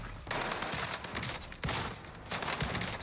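Rapid bursts of automatic gunfire in Call of Duty Warzone on Rebirth Island, with dense, loud volleys coming in three waves that each start abruptly and stay continuous.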